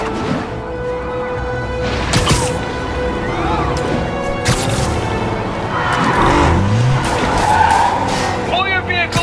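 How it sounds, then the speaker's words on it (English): Tires skid and squeal through a high-speed car chase in the Spider-Man PS4 video game, with roaring engines, a sudden crash-like burst, and game dialogue and voices playing over the continuous action. "That's a high-speed car chase,"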